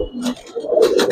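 Giribaz racing pigeons cooing on a rooftop, several close, throaty coos in quick succession, loud and near, with no talking.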